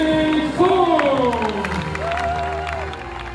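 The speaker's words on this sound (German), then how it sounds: "een even applaus" Crowd cheering and clapping at an Ironman Switzerland finish-line ceremony, a steady roar under a loud announcer's voice, with tonal sweeps rising over the noise.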